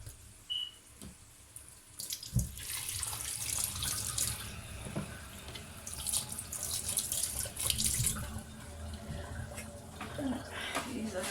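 Tap water runs into a sink while food is washed for a beef mince curry, a steady splashing stream with clinks and handling noises, fairly close and continuous for most of the stretch.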